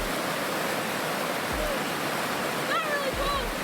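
Cold meltwater flowing out of a lake still carrying floating ice, a steady broadband rush like a stream or small falls, close and continuous, with a few faint bird chirps near the end.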